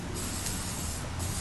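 Acetone spraying onto car wheels to strip their paint makes a loud, steady aerosol hiss. Two brief bursts of stronger spray come through the continuous stream.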